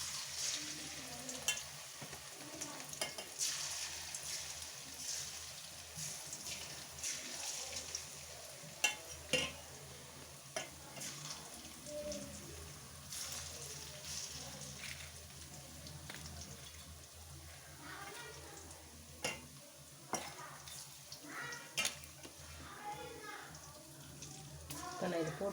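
Cornflour pakoda frying in oil, a steady bubbling sizzle with scattered crackles and light scraping stirs, a voice talking over it at moderate level throughout.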